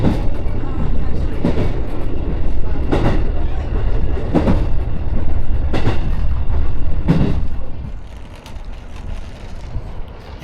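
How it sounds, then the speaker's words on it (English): A train rumbles heavily past a platform in Japan, with regular clanking thumps from the wheels every second or so, easing and quieting near the end. "found my platform, waiting for the train, should be here in about 3 minutes"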